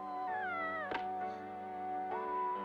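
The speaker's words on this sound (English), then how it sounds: "she named the cat already, Blanche." A cat meows in a long, wavering, drawn-out cry with a few shorter mews mixed in, close and fairly clear.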